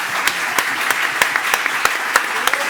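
A studio audience applauds on a Spanish television talk show, with steady, dense clapping and sharper individual claps standing out, loud and close, with voices faintly underneath.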